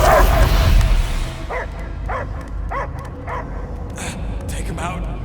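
A dog in the video game Marvel's Guardians of the Galaxy gives a series of rhythmic barks and yips, fairly close, over a dense game soundscape with a rumbling background.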